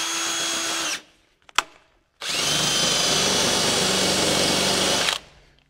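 A loud power drill with a large bit whirs briefly, stops with a small knock, then grinds steadily for about three seconds as it bores through a metal Jeep skid plate before winding down.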